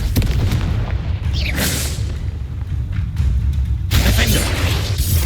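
A Confringo spell explodes in the Hogwarts Legacy video game as loud, rolling booms and crackling blasts that keep going, with a brief quieter gap before another burst of noise.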